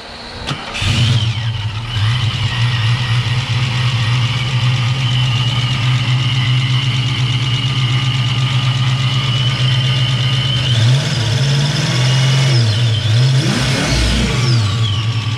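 A Ford 5.0 V8 fitted with a GT40 intake cranks and fires, settling into a steady, loud rumbling idle, then gets a few quick blips of the throttle near the end, with no talking.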